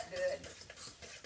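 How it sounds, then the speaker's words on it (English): Egg being stirred into a salmon patty mix with onion, salt and pepper, giving a short run of soft wet scraping and light utensil clinks against a bowl, close and fairly quiet. "Stir that up good"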